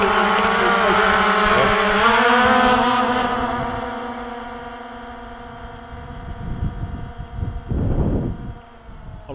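A DJI Phantom 2 quadcopter hovers close by with a loud buzzing motor whine that fades after a few seconds, followed by rustling handling noise.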